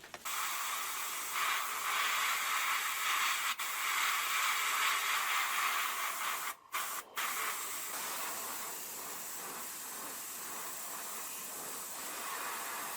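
Spray paint hisses steadily through vinyl masks onto an old car, a close, continuous airy spray lasting several seconds with two brief pauses midway before resuming more softly.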